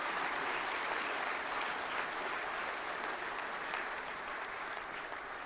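A large crowd at a GST Day celebration claps in sustained, even applause, a dense wash of hand claps heard from a moderate distance with no talking over it.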